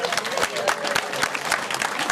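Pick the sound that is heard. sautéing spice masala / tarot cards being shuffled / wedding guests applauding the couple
wedding guests applauding the couple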